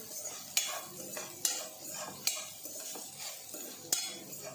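A utensil scrapes and taps against a pan at a steady rhythm, with soft sizzling beneath, as dry mango powder (amchur) is stirred and roasted; the clinks come roughly once a second and are close and fairly quiet.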